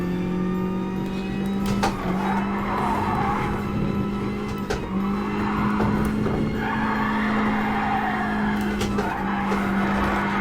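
A Mazda RX-7 with a rotary engine drifts in a video game, tires squealing in a long continuous howl over a steady, droning engine note, loud and close with brief shifts in pitch.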